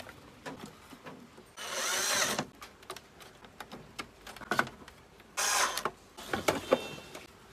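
A small power screwdriver drives screws into the casing of an induction cooker in two whirring bursts, with scattered clicks and handling of parts in between.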